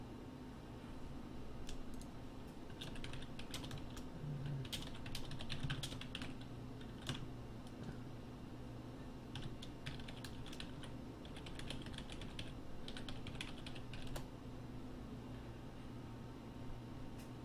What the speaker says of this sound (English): I was typing to someone in the chat